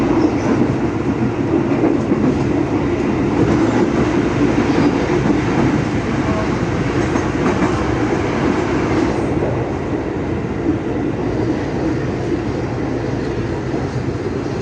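A KRL commuter train leaves Jatinegara station and rolls along with a steady loud interior rumble and a continuous rattle of wheels on track, unbroken for the whole stretch with no voices.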